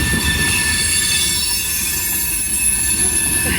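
Steady, loud metallic squeal of train wheels grinding on curved track at Miller station in Ohio, shrill tones held throughout over a low rumble of rolling railcars, with no speech.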